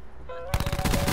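Rapid automatic bursts from the Switchblade gun in Call of Duty Black Ops 4 break out abruptly after a faint tone, loud and close, in a dense rattling stream.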